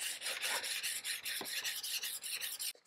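Steel chisel being sharpened on a woodworking sharpening system, a continuous close raspy scraping with steady back-and-forth rhythm, alone without talk until a brief stop at the end.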